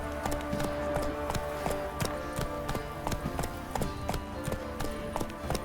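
Roach, the horse in The Witcher 3, gallops with a steady, rapid clip-clop of hooves, close and even throughout over a low ambient bed.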